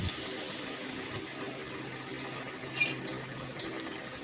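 Water runs steadily into a cooking pot holding half a chicken, a continuous close gushing and splashing with no talking over it.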